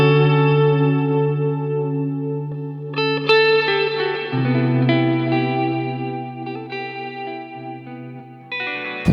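An electric guitar plays sustained chords through an EarthQuaker Devices Afterneath reverb pedal, long swelling tones smeared into shimmering, echoing washes that shift pitch as new notes ring in, loud with no talking.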